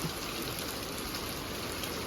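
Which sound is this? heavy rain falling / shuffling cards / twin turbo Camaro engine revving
heavy rain falling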